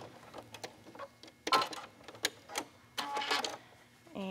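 A sewing machine backstitching bias trim on a garment neckline, short quiet bursts of stitching clatter with irregular clicks and pauses, close but soft, ending on a brief whirring run.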